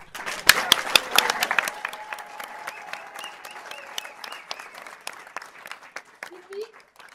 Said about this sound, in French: J'aimerais qu'on applaudisse Jocelyne.